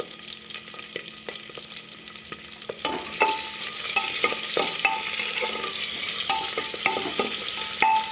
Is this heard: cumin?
yes